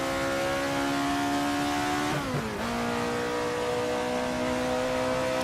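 Alfa Romeo 33 Stradale engine in the racing game Assetto Corsa pulling hard at high speed, a steady loud rising wail with one quick gear shift dip midway before climbing again, no talking.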